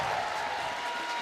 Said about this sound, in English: can we get a round of applause for Merc and Maven actually being back?